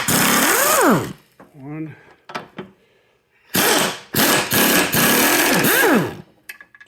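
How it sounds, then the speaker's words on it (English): An impact wrench works a strut nut on a 2007 Chevrolet Malibu Maxx in loud, rattling bursts, with rising and falling whirs between short pauses, as someone speaks briefly. "Let's hit it with the impact."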